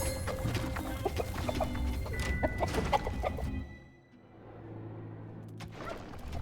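Gobbler creatures in the Dungeons 4 video game, a flurry of chicken-like clucks and squawks, close and busy, thinning out briefly before a few more calls return.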